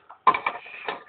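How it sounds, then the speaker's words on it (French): Wrench turning to unscrew bolts on a needle bearing puller, a short burst of metallic ratcheting clicks and scraping, close and fairly quiet. "tu commences à dévisser avec une clé de 13"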